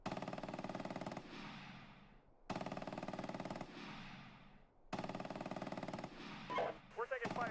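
Video game gunfire in long rapid machine-gun bursts, three sustained volleys with short gaps, ending in scattered shots while a voice speaks.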